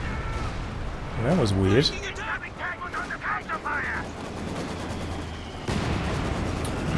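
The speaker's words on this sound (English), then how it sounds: "Going to come down for a scatter on the second run of bombs." During a Company of Heroes 2 match, bombs from an air supremacy run land in scattered dull booms and rumbles, with a commentator talking over the early part and a steady wash of game noise underneath.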